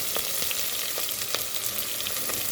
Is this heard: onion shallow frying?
yes